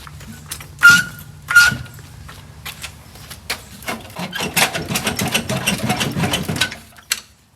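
A VW Beetle engine fires up for the first time in over 25 years. It gives a few isolated mechanical bursts, then sputters into a rapid, uneven run of pulses before cutting off near the end.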